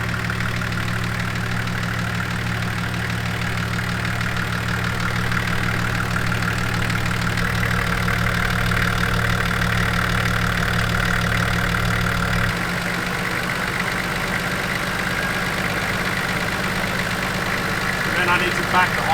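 A Nissan TD42 turbo diesel idles steadily with its idle set out of adjustment, a constant close engine drone whose pitch drops partway through as the idle is brought down.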